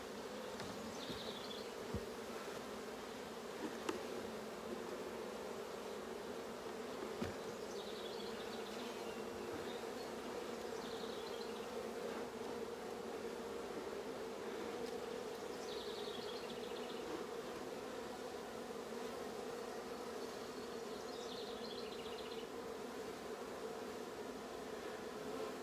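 Honeybees buzzing around a hive during beekeeping work: a steady, dense droning hum of many bees close by, continuous for the whole stretch, with occasional faint knocks and no talking.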